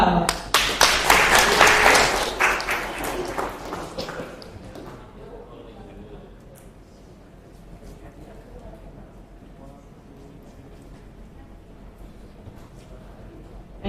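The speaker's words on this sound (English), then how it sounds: "Give applause." Applause from a seminar audience at a university campus, a burst of loud clapping that dies down after about four seconds, leaving a few scattered claps, shuffling and quiet room noise with some talk.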